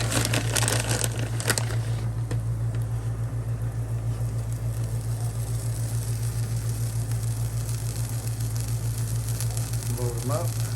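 Tortilla frying in butter in a pan, a steady low sizzle and crackle running throughout, with a few brief clatters near the start and faint voice-like sounds near the end.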